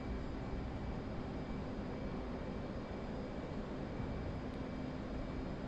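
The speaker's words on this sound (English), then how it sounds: "Now the plane will take off by itself, because that's how advanced planes are." An F/A-18 jet in a flight simulator game roars steadily during takeoff, a continuous broadband engine rumble with a faint steady tone, even in level and with no talk.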